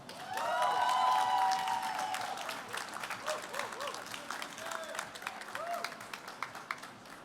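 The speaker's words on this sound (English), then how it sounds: "Huge round of applause" An audience at the ePitch finale for Babson College at eMerge Americas breaks into a burst of applause, dense clapping that swells early and then thins out, mixed with crowd cheers and voices.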